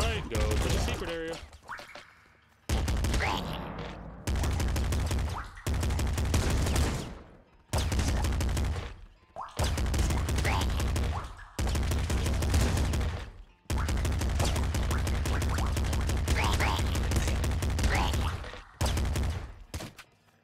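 Grenade launcher fire from Nuclear Throne comes in loud, punchy bursts of rapid shots, separated by brief silent gaps.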